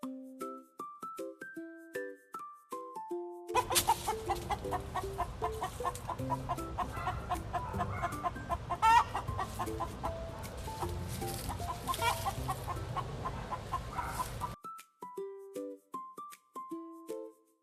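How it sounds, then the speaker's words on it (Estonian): A flock of domestic hens clucks busily and continuously for about ten seconds, loud and close. Short tuneful music plays on either side. "Kana on kodulind."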